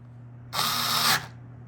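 A Hychika cordless drill driving a screw with a Phillips 2 bit whirs in one short, steady burst of about half a second, close and fairly loud, then stops abruptly against a quiet background hum.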